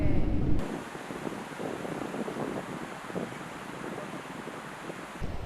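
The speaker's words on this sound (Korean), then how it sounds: "바닷바람이 거세다가 보니까 막 저 파도 소리 우리를 막 반겨주고 있잖아요" Ocean waves driven by a strong sea wind on a coast near a lighthouse, a continuous roar of surf with heavy wind buffeting the microphone, rushing steadily throughout with no voices.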